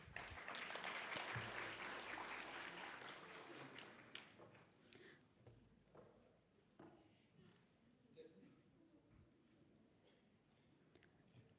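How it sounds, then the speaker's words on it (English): Audience applause at a conference on education for a sustainable future, a burst of clapping in a hall that fades after a few seconds into scattered taps and faint movement, with no talking. "A warm round of applause, please."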